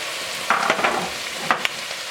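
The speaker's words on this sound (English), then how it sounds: "We're going to add our minced garlic." Minced garlic sizzling steadily as it is added to a hot pot for one-pot Cajun chicken and sausage, with a constant close fry and a few brief scraping stirs on top.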